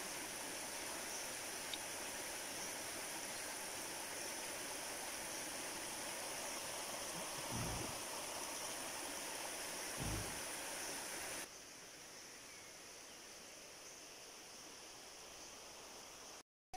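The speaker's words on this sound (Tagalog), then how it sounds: "May ilog." A river stream flowing steadily outdoors near a farm, a constant faint rushing wash with a couple of brief low thumps, quieter toward the end.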